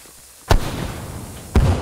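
Two sharp dynamite blasts in the video game The Culling, about a second apart, each a loud close bang followed by a rumbling tail.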